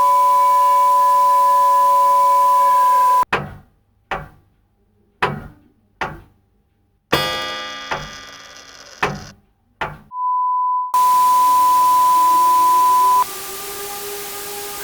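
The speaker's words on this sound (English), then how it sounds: "We just unplugged our EAS transmitter because it was just outputting a 1 kHz tone." A steady 1 kHz tone from an EAS transmitter runs loud and unbroken, cuts out for a stretch of sharp clicking bursts, then returns as the same continuous pure beep.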